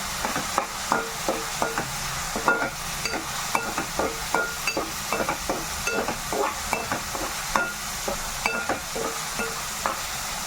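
Dried prawn and tomato curry stirred in a pan with a spoon: steady rhythmic scraping strokes roughly twice a second over a constant close sizzle, no voices.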